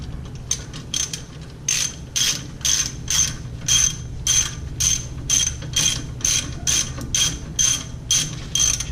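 A ratchet tightening the lug nuts on the wheel hub of a 2014 Ford Explorer, loud close rhythmic bursts of clicking repeated steadily with no talk.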